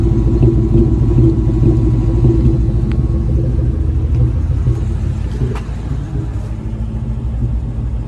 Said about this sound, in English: It's just kind of a weird little cough at idle.